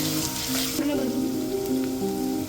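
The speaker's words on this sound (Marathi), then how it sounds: "आलं आणि लसूणची पेस्ट. छान आपल्याला हे लाल होईपर्यंत परतून घ्यायचंय." Ginger garlic paste sautéing in hot oil in a pan, a continuous close sizzle with a brief stir partway through, loud and steady with no voices.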